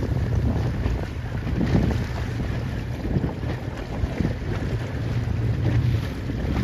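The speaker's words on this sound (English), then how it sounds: "Best wind of the day." Strong wind roars steadily over a C420 sailing dinghy during a regatta, a continuous, loud buffeting with faint water wash beneath it and no voices.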